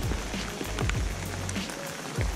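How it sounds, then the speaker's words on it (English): Heavy rain pours down during trout fishing, a dense constant hiss of drops on surfaces with scattered louder splatters, fairly faint and steady. "It's downpouring."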